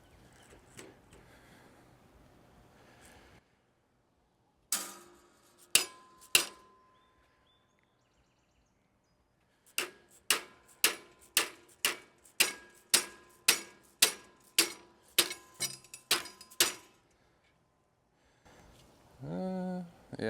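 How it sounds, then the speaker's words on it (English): A mallet strikes a Haban sickle bar in bursts of sharp metallic clinks, a few isolated hits followed by a quick run of about a dozen evenly spaced taps, with quiet gaps between groups. "I'm gonna start off with a mallet because I don't want to go for a hammer."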